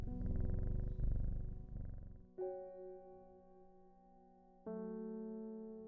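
A cat purrs in the game Strange Horticulture, a low continuous rumble for about two seconds, followed by sustained bell-like tones that start abruptly and ring out.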